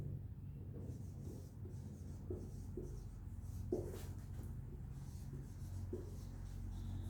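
Marker or chalk strokes on a board during a lecture on the Renaissance, a series of faint, short scratchy rubs in an irregular rhythm, heard alone in a quiet room.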